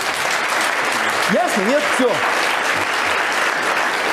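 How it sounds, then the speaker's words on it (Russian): A steady wash of loud, dense applause runs throughout, used as a sound effect in a satirical commentary, with someone speaking briefly over it. "аплодисменты, а потом фанфары"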